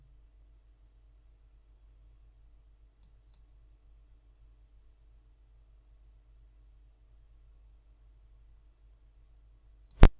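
Computer mouse clicks, a couple of faint ticks early on followed by one sharper click near the end, set against near silence.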